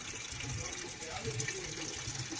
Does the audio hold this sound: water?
yes